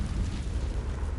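Confringo blasting spell explosion in Hogwarts Legacy: a short, rumbling, low booming burst that stays loud and steady for its whole length.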